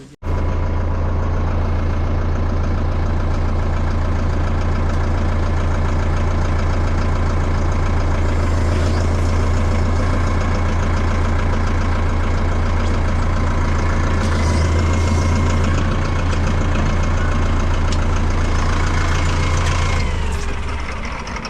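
A tractor hitched to a loaded sugarcane trolley idles steadily, a loud, close, continuous low engine rumble with a constant hum running the whole time and no voices.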